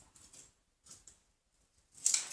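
Scissors cut paper for a terrain crafting build in a few short, faint snips, ending in one louder, sharper cut.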